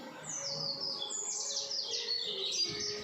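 Pet songbirds chirp at home, a fairly faint run of quick high tweets and trills repeating continuously, with no voices.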